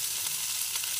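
Capsicum, carrot and shredded potato hit a hot kadai, giving a loud, continuous close-up sizzle with a couple of brief surges in the hiss, no voices.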